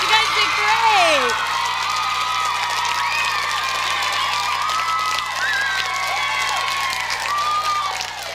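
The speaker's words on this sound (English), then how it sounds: "Give yourselves a round of applause." Children in a group cheer, whoop and clap for themselves after a school lesson on making choices. The shouting is loud and sustained, with lively excited voices over scattered clapping throughout.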